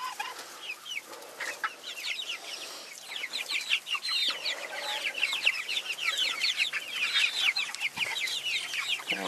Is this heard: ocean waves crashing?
no